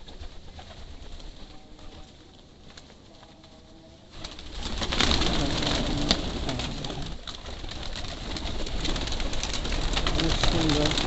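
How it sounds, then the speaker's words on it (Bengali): Pigeons being fed near grape and jujube trees coo amid a steady rustling wash that grows louder midway, with a person talking now and then. "দেখেন, এই যে কবুতর সব নিয়ে খাবার দেওয়া হয়েছে"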